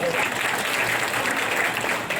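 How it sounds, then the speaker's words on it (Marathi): Steady, dense applause from a crowd at a political speech in Chandur Bazar, continuous clapping filling the whole moment without a break. "टाळ्या वाजून स्वागत करा"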